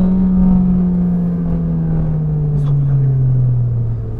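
An Abarth 695 Tributo Ferrari pulls away from a start, its engine a loud, steady drone heard from inside the car, with the pitch sliding slowly downward across the run.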